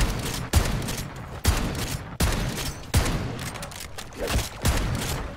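Shotgun blasts in MW3 Zombies boom out one after another, about seven loud heavy shots at a steady rhythm, each with a sharp attack and a rumbling tail, close and prominent with no talk.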